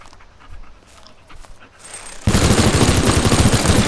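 Minigun in the game Teardown opening fire, a sudden loud, dense continuous roar of rapid shots that starts abruptly partway through and keeps going without a break.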